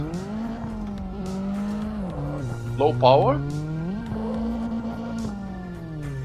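A car engine in the game CarX Drift Racing Online drones and whines as the pitch rises and falls, with a brief tire squeal midway while a person talks over it.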